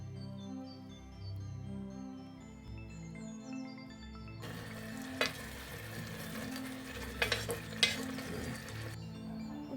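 Garlic hits hot fat in a cocotte pot, starting a dense sizzle with a few clinks and stirring knocks against the pot.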